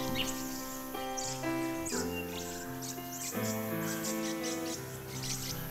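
Rainbow lorikeets chatter and screech around a tree hole, a steady stream of shrill overlapping calls and chirps forming a continuous, fairly busy chorus.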